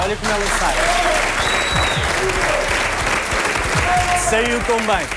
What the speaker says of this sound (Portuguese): Olha, uma salva de palmas para a Iva a sair.